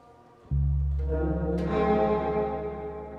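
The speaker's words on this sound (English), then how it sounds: "If I want to really dial up that reverb." A sustained, strummed guitar chord rings out, then a bright added note swells into a washy, echoing tail that lingers and slowly fades.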